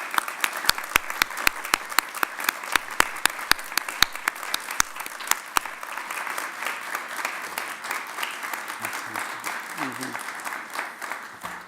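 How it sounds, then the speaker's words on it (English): Applause from a Veterans Day ceremony audience honoring standing veterans, starting with sharp, separate claps that thicken into a steady, moderately loud round. "And shall we give them all a round of applause?"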